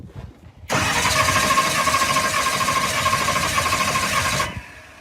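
Drag car engine under repair being cranked over by the starter, a loud steady whirring churn that starts abruptly, runs about four seconds, then cuts off.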